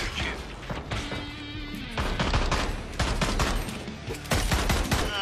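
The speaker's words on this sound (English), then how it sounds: "This time I'm going to use my gun." Rapid bursts of gunfire from the player's gun in the ZombieLand video game, loud and near, with dense repeated shots and impacts filling the whole stretch.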